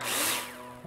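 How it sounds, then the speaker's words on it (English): A power drill whirs in Builder Simulator as it drives screws through metal profiles into the ceiling and floor. The burst is short and loud, peaks early, then winds down, with no voices. "screw them in with a drill"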